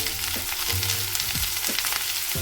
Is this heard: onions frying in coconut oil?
yes